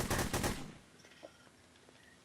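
Gunfire in a first-person video game, a loud burst of rapid shots packed into the opening half second, then a few faint isolated pops over a quiet background.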